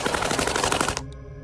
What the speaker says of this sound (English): a gang member fired shots into the air